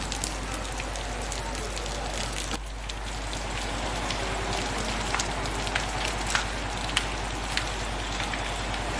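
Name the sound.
rain falling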